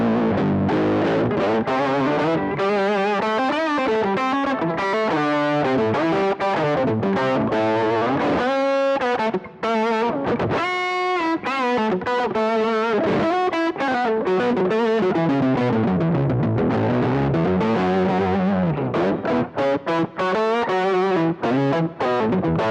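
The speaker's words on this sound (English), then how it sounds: "It's just such an inspiring tone, and that's using a Wampler Velvet fuzz" An electric guitar runs through a Wampler Velvet fuzz and a Whammy pedal set to lower octave into a Marshall Origin 50 head, producing thick, saturated, octave-down riffs played continuously with sustained notes and brief pauses.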